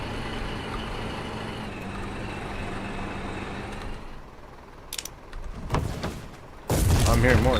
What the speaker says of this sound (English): I'm hearing more explosions